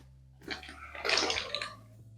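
Chopped potato pieces are dropped into boiling salted water, making a short splash followed by a longer, fizzing wash of water, close and fairly soft.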